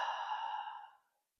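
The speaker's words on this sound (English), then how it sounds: "Big exhale out of the mouth." A big breath pushed out through the mouth during a Pilates mat workout, one long breathy whoosh up close that fades away after about a second, followed by quiet.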